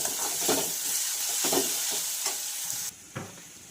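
Onion, green chili and cumin sizzling in a hot pan, a steady bright frying hiss broken by several soft scraping stirs.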